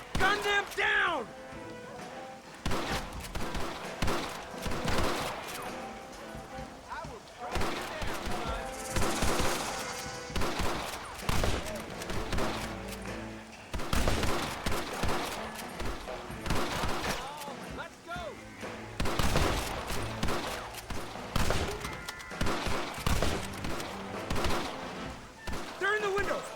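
A shootout in Red Dead Redemption rattles with repeated gunshots, rapid volleys and single cracks going off near and far over a sustained stretch, with voices calling out between the blasts.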